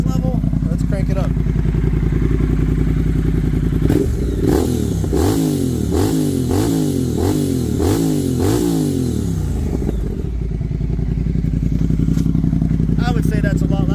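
Triumph Speed Twin motorcycle fitted with Cone Engineering shorty exhaust pipes, idling and then revved hard in a series of about six sharp, loud blips in the middle, settling back to a loud idle.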